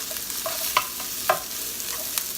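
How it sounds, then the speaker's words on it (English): Chopped onions browning in a pot give a soft, steady sizzle of frying, broken by a few sharp scraping stirs from a spoon nearby, with no voices. "So I'm going to put the chopped onion in here first. And we're going to brown the onions for a little bit"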